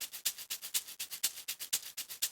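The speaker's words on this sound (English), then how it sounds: "So we get that really nice crunchy sound" A gritty, crunchy shaker loop repeats in a steady fast rhythm, each hissing shake harsh and bit-crushed, played alone and up close.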